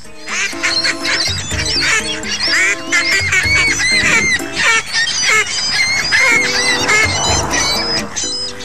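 A duck lets out rapid, repeated quacking bursts that resemble hearty human laughter, loud and close, with other ducks around making ordinary calls and brief pauses between the cackling runs.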